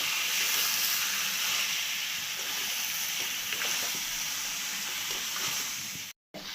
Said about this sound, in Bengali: এটাকে আমি এবার কষাবো।